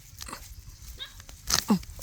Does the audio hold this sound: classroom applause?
no